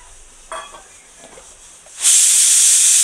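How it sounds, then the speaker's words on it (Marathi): A pressure cooker cooking dal lets out a loud, sustained steam whistle that bursts in after two seconds of quiet kitchen clatter and holds steady to the end. "बघा आपल्या डाळीची शिट्टी पण होती."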